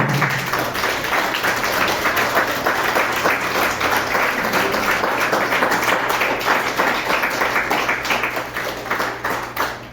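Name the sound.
congregation clapping as an offering to the Lord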